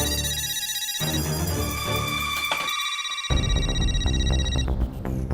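A phone ringtone plays loudly and steadily with bright repeating melodic tones and a thumping beat underneath, no one speaking over it.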